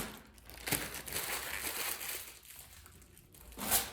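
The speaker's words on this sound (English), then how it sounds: "then you can peel the masking off and see how easy it is" Protective masking film peels off a Clearview motorcycle windshield on a Harley-Davidson Low Rider ST, giving a soft continuous crinkling and rustling with a few sharper crackles, close and quiet.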